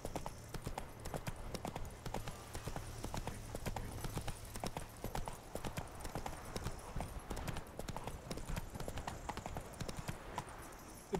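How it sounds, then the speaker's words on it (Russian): Horse hooves pound in steady, rapid clip-clop rhythm throughout a ride in The Witcher 3: Wild Hunt – Blood and Wine, close and continuous over a constant low game ambience. "Нет, лошадь-то сзади прибежала."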